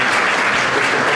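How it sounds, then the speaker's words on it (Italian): A conference audience claps for an organizer in a short burst of dense, steady applause. "un applauso veramente a un bravo organizzatore."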